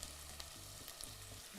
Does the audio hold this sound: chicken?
no